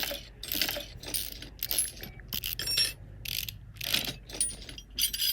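Bolts ratcheted off an engine in the video game Car Mechanic Simulator: repeated bursts of quick metallic ratchet clicks in an irregular rhythm, close and crisp, with no talk.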